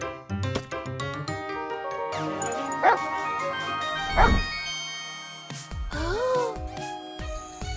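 A cartoon dog barks and yips in a few short bursts mixed with chiming tones and animated sound effects, with a voice briefly present.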